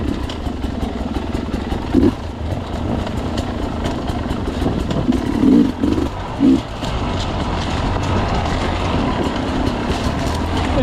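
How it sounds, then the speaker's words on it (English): Enduro motorcycles ridden on a trail in Romania, a steady engine drone running throughout with a few brief louder bursts near the middle. "Riding our motorcycles in Romania."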